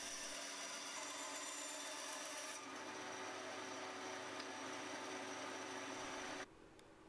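A bandsaw cuts a block of wood through the centre of a drilled hole for a toy pop gun. It gives a steady, faint rasping whir that shifts partway through the cut, then drops off sharply near the end.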